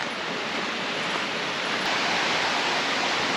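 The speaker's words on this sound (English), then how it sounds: "You can already hear the waterfall." A waterfall in the forests of Western North Carolina rushes in a steady, broadband hiss from a short distance along a trail, an unbroken wash of falling water with no talking.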